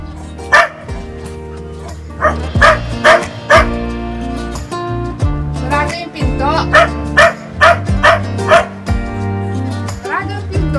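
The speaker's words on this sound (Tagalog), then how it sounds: "Kahol ng kahol yan hanggat hindi mo pagbuksan ng pinto." A dog at a closed door barks repeatedly in loud, close bursts, sometimes in quick doubles, while someone talks over the barking.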